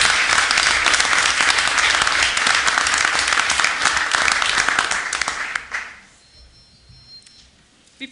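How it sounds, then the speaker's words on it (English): At a school board meeting, the audience gives a dense round of applause that holds steady, then fades out into a quiet room with a faint tone and light shuffling. "Let's give them another round of applause."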